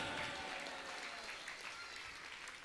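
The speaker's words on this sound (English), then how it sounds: "Why you're not clapping your hands?" An audience at a devotional gathering in Mayapur claps its hands. The faint, distant applause stays steady and ends in one sharp close knock.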